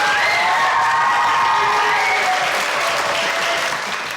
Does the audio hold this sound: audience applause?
yes